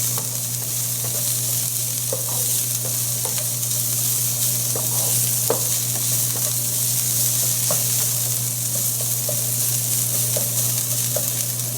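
Four cloves of chopped garlic fry in hot oil with a steady, loud, close sizzle that runs throughout, broken by a few light taps of a stirring utensil.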